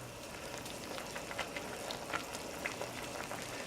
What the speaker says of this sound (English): You can tell it's boiling because it's got a lot of big bubbles coming up to the top